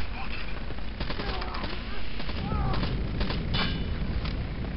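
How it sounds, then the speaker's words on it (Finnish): Rapid bursts of gunfire from the video game Rainbow Six Vegas 2, dense and loud over a constant low rumble, with a player talking under the shots. "No mä ammun ne kaikki äijästä läpi"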